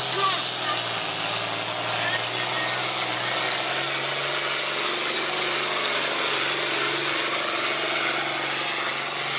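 Pulling tractor at a tractor pull, engine holding a steady loud high roar throughout with a constant hiss, no distinct breaks.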